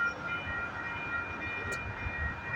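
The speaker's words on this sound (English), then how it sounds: "we got a CP westbound train coming down the line" A CP westbound freight train passes at mile 37 on the Galt subdivision near Milton, Ontario, a steady rumble and rail hum that holds evenly throughout, with a faint high squeal partway through.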